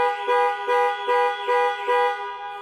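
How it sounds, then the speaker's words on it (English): The panic alarm on a 2021 Range Rover Velar blares its horn in loud, steady pulses, about five even blasts repeating in a regular on-off rhythm, close and alone. "Press for 3 seconds or press 3 times in 3 seconds, and the horn will sound and the hazard lights will flash."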